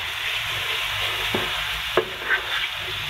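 Spice masala with yogurt fries in a pan for pickled chickpeas, a steady close sizzle with a few sharp spoon knocks and scrapes against the pan, no talking.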